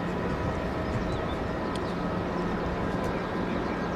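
A Qatar Airways cargo jet takes off from Kansai International Airport, heard as a steady, fairly distant engine roar that stays constant throughout, with faint background sounds.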